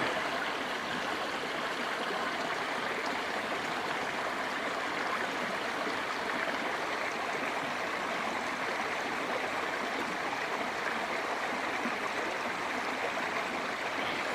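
Pilchuck Creek flowing steadily, a dense, continuous rush of water that stays even and close throughout, with no voices.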